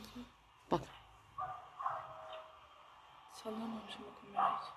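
Dogs bark and yelp during an earthquake, their faint, scattered barks sounding at a distance amid background noise and a few voices.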